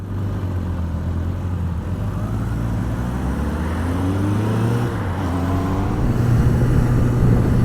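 A group of motorcycles, including a Kawasaki KZ650B1 and a Ducati, ride along an open road. A steady, close engine drone rises gradually in pitch with the wind.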